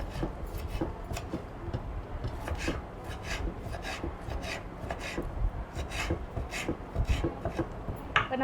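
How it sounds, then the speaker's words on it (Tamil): Coconut is cut into small pieces for chicken kuruma, producing quick, irregular close-up knife taps and rasping scrapes that continue steadily without speech. "நம்ம அரைக்கிறதுக்காக நம்ம தேங்காவை பொடிசாக கட் பண்ணி எடுத்துக்கலாம்"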